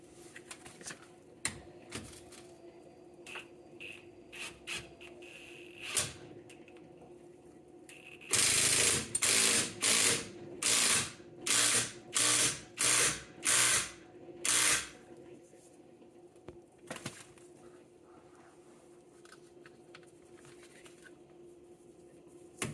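Ratchet wrench turning a bolt on a 1987 BMW steering rack: a burst of about ten loud, evenly spaced clicking ratchet strokes mid-clip, with quieter scattered taps and handling sounds before and after.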